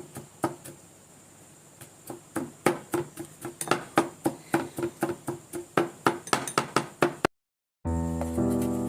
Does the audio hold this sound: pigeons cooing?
no